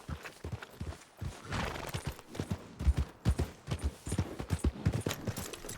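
Horse hooves clip-clop in Red Dead Redemption 2, a steady walking rhythm of close, moderately loud hoofbeats with faint background game ambience and no speech.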